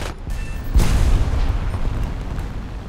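Aircraft guns in War Thunder air combat fire a burst: a sudden heavy boom rolls into a dense, rumbling roar that stays fairly loud to the end, under a constant engine drone.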